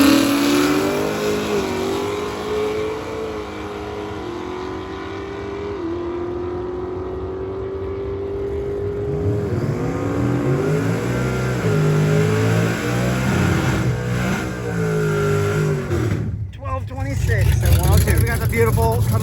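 Drag race cars, a Camaro and a Chevy II among them, rev and roar down the strip at Rocky Mountain Race Week, a loud sustained engine pitch climbing and shifting under a commentator's voice.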